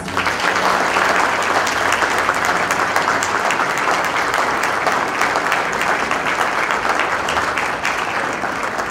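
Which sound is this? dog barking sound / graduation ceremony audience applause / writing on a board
graduation ceremony audience applause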